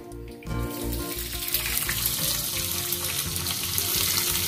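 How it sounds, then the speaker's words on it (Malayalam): Fenugreek and mustard seeds sizzle and splutter in hot oil for a fish curry, a loud, continuous crackling fry with no talking. "ഓക്കെ, ഉലുവയും കടുകും കൂടി ഇടണം. ഇതത് പൊട്ടണം അല്ലേ."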